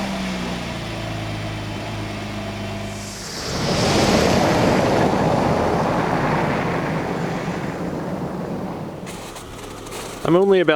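Ocean surf breaks on a beach shore, a broad rushing wash that swells and holds steady under wind buffeting the microphone, ending with a brief burst of handling noise.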